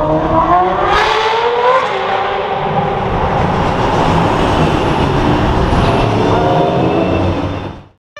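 A Ferrari F8 roars past right after a LaFerrari, a loud, close, continuous engine and exhaust rush that holds for several seconds before cutting off abruptly.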